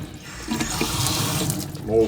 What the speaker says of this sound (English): You can now see that the water goes through.